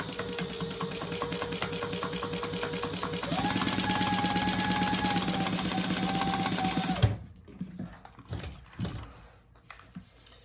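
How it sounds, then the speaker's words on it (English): A sewing machine runs steadily at close range, top stitching a clutch wallet for about seven seconds before stopping, followed by light handling noises. "So let's just top stitch that."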